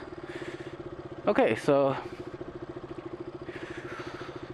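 A 2016 KTM RC 200 motorcycle idles steadily with an even, throbbing pulse throughout, briefly drowned out by a burst of nearby speech partway through.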